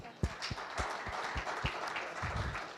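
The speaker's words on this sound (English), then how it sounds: "Let's give her another round of applause." A round of applause from the audience at a medical scientific conference, heard fairly faint and distant as a light patter of claps, with a few sharper low thumps spaced through it.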